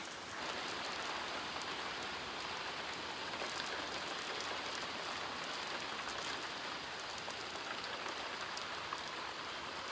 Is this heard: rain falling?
yes